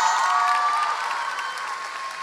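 An audience applauding warmly, a continuous wash of clapping with a faint sustained tone underneath, fairly loud throughout.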